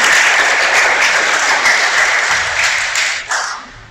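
Church audience breaks into loud, dense applause, a continuous crackle of many hands close by that fades slightly toward the end, with no talking over it.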